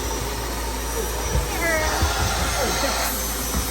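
A vacuum cleaner runs with a steady high whine and airy hiss, with faint thumps and background murmur beneath it.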